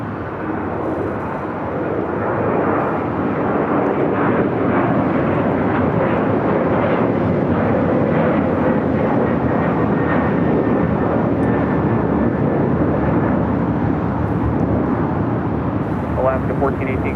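An airliner takes off from runway 25 right at LAX, its jet engines giving a loud, broad, sustained roar that holds steady for nearly twenty seconds, with faint voices in the background.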